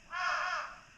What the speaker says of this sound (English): Oh, a lot of birds around here.